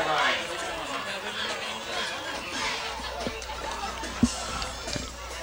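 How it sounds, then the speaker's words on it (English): Crowd noise at a 1992 high school football game between Bishop Feehan and Coyle Cassidy, a steady murmur of chatter and voices from fans standing around the field, with a sharp thump partway through. "Pretty decent crowd here."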